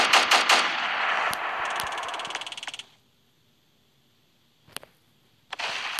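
Rapid automatic gunfire rattles in a dense burst for about three seconds in a Roblox Prison Life game, followed by silence and two brief single shots near the end.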